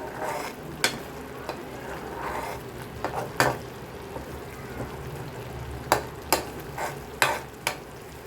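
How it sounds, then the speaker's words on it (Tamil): Garlic chutney fries in oil in a pan, a soft, close sizzle broken by sharp spatula scrapes and clacks as it is stirred every few seconds, with no talking. "நல்லா எண்ணெய் பிரிஞ்சு வர வரைக்கும் இது குக் ஆகணும்."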